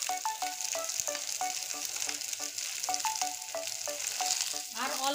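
Pieces of pointed gourd fry in hot oil with a steady, close sizzle that runs throughout, with bright repeated chirping tones over it.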